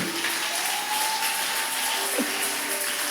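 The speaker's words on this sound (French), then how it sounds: "Applaudissons l'Éternel des armes." A church congregation at a fasting and prayer service applauds, a steady wash of many hands clapping for a few seconds, with faint tonal sounds and no clear speech.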